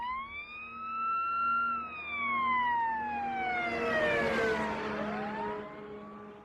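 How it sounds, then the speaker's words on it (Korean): An emergency siren wails loudly as the vehicle approaches and passes, its pitch dropping noticeably as it moves away, with traffic rumble underneath. "삐뽀삐뽀 소리가 나는 구급차가 있다라고 해보겠습니다."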